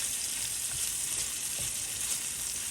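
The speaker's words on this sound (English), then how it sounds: "let's dump these sausages in there" Sausages frying together with bacon and cabbage in a pan, giving a steady, close, dense sizzle that holds evenly throughout with no talk.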